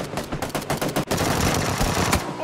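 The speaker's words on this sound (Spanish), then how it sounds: "Sí, están disparando. Hay tiros en la derecha" Rapid automatic gunfire in PUBG on PS4, sharp bursts of shots close by in quick succession, a brief pause, then another sustained volley, loud and nearly free of talk.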